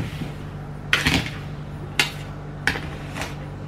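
Pandan tapioca layer cake batter being stirred in a bowl, with three distinct clinks of the utensil striking the bowl over a low steady hum.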